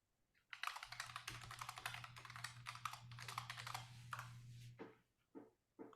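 Steady clicking of keys on a computer keyboard during a committee meeting on rules and regulations, continuous bursts of typing close by with a low hum underneath and brief pauses near the end.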